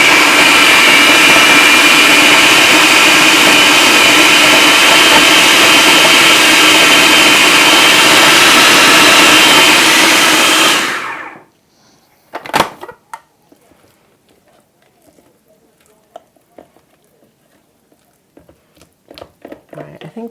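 A blender whirs loud and steady for about eleven seconds, mixing salad dressing with basil, then cuts off abruptly, leaving a sharp knock and quiet handling noises.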